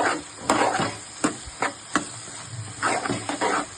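Ginger garlic paste and turmeric fry in a pan for a beans egg curry, a soft sizzle broken by repeated scraping stirs of a spoon at an uneven rhythm, close by and without speech.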